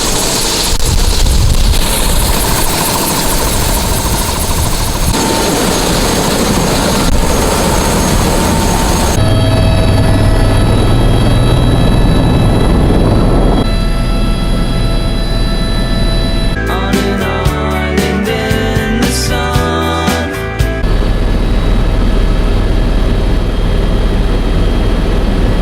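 A Blue Hawaiian tour helicopter on Maui runs loud and steady, its broad rotor and turbine roar holding throughout, with a burst of rapid rhythmic chopping pulses near the end.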